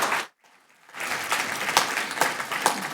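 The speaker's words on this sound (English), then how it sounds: "Round of applause for our Seat 1 City Council candidates." An audience at a youth-council candidate forum applauds city council candidates after a brief silence, with moderate, somewhat distant clapping carrying on steadily, some claps louder than others.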